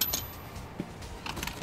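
Metal keys or a wrench clinking and jangling in quick handling sounds, near and fairly quiet, during brake pad and disc replacement on a 2008 Toyota Corolla.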